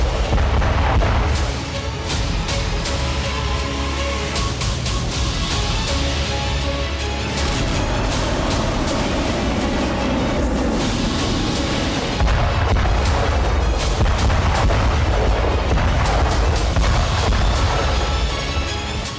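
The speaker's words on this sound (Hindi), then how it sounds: "ये विस्फोटक हैं क्लस्टर बम।" Ukrainian cluster bomb strike on Russian positions in Avdiivka: a dense, continuous roar of overlapping blasts and crackling bursts, with heavier booms swelling near the start and again toward the end.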